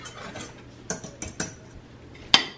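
Cold brew coffee is stirred with a utensil, giving several quick metallic clinks and taps against the container, close and moderately loud, with one sharp clink near the end. No speech.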